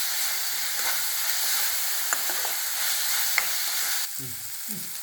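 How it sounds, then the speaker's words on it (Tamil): Onions with salt and asafoetida sauté in a pan for cassava bonda, making a steady, fairly loud hiss and sizzle with a few sharp spatula taps; the sizzle eases near the end. "வெங்காயம் சீக்கிரம் கொஞ்சம் கொஞ்சோண்டு உப்பு கொஞ்சமாக பெருங்காயத்தூள் நல்லா வதக்கணும்"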